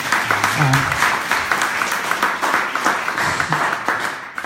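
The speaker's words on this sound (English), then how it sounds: "I think that deserves a round of applause" A live audience at an interview event gives a round of applause, dense, fairly close clapping with individual claps audible and a voice briefly heard near the start.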